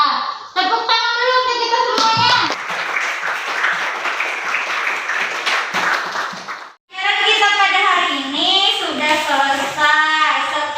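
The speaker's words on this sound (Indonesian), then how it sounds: "Tepuk tangan dulu untuk kita semuanya." Students in a classroom break into a burst of brisk applause lasting several seconds, with a voice speaking just before it and again right after.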